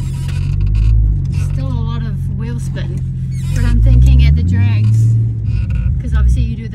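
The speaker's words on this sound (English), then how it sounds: "Still a lot of wheel spin" Nissan 180SX launching hard on semi-slick tyres with wheel spin, its engine droning loud and close with rising revs, while someone talks over it.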